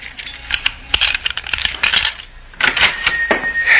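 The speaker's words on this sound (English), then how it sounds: "Stop fumbling with those keys." Bunch of keys being fumbled and jangled at a door, a busy metallic clinking and rattling that comes in irregular bursts across the whole stretch, fairly close and with no talk over it.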